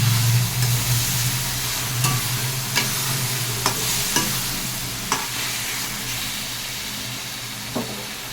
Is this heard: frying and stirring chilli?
yes